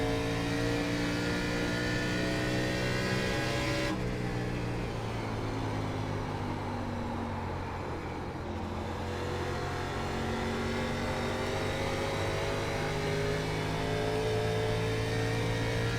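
A NASCAR truck engine in the iRacing simulator drones and accelerates continuously, its pitch sweeping with throttle changes and a shift partway through, loud and steady with no voices.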